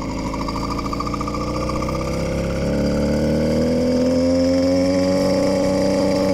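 Small engine on a motorized bicycle revving up, a close, loud buzzing drone whose pitch climbs steadily over several seconds with no speech.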